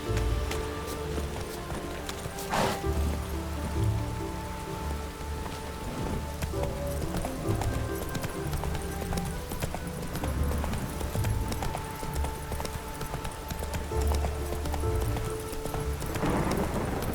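Hoofbeats from Roach, a horse galloping in The Witcher 3, drum steadily and close over a continuous rain-like hiss across the whole stretch, with a sharp burst near the middle.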